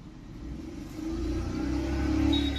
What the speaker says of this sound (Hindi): मैं फिर से रेस दे रहा हूँ गाड़ी स्टार्ट ही है